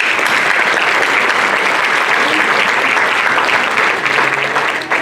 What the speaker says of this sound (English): Can we get another round of applause for everyone involved in this group?